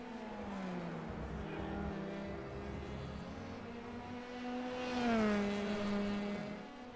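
Formula 3 race cars lap Brands Hatch in a sim racing video game, their high engine whine droning steadily and then swelling louder as cars sweep past near the end.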